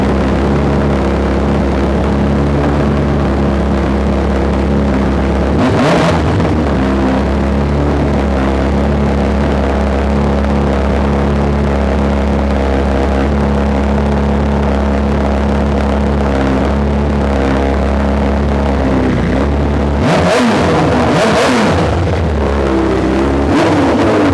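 A 2020 BMW S1000RR motorcycle engine idles steadily in a loud, near, sustained drone, with short sharp revs near the start and a rougher burst of revving near the end; no one speaks.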